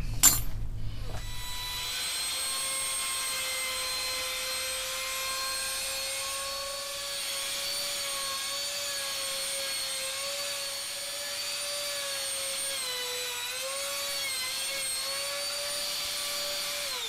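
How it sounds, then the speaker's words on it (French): A machine carriage traverses the full length of a six-string multiscale bass guitar workpiece, giving a steady, sustained whining motor hum with a slight pitch wobble near the end, running alone after a brief clatter at the start. "il n'y a plus qu'à charioter toute la longueur"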